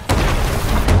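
Cannon fire booming against a ship in Sea of Thieves, a Grade 5 Reaper galleon fight: one loud, sustained, rumbling blast lasting about a second, with a second hit swelling at the end.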